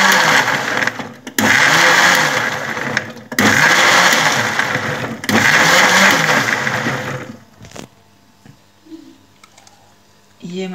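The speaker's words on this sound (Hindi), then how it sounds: "इस चटनी को हम ब्लेंडर को मुसलसल नहीं चलाएंगे" A blender whirs loudly in three short bursts with brief pauses between while blending tamarind chutney, then cuts off, leaving quiet background noise.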